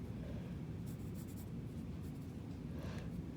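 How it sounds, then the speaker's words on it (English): Light pencil sketching on paper while drawing the outline of a Greek pottery vessel, a soft continuous scratchy rasp with a few brighter strokes, close and quiet with no talking. "we're gonna take our time drawing lightly, sketching, trying to make our vessel look the correct shape."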